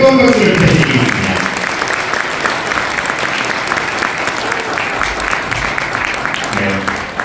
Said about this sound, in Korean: 부부가 된 두 사람을 향해서 다시 한번 뜨거운 박수를 부탁드리겠습니다